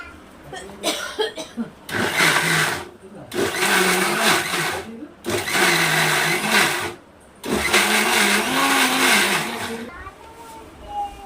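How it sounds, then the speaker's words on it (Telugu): A mixer grinder whirs in several loud bursts while grinding ginger chutney with tamarind and jaggery, stopping briefly between runs, and the motor pitch dips and rises as the blades work through the paste. "ఇప్పుడు ఇది మొత్తం మెత్తగా మిక్సీ పట్టుకున్నాం."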